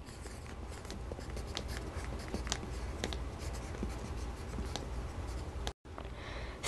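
A pen scratches across paper in quick, close strokes as a signature is written, a steady run of small scribbles, then a short cut to silence before faint scratching resumes.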